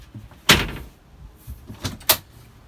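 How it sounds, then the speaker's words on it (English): A bow block-off door on a 2020 Grady-White Freedom 275 twin-engine boat closes with one loud knock, then two quieter bumps and a latch-like thud follow. "As we enter the boat to the bow, you'll have a bow block-off door."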